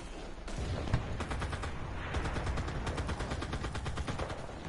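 Sustained automatic gunfire in the multiplayer shooter game Enlisted, rapid repeated bursts filling the whole stretch at steady, loud volume with no talking over it.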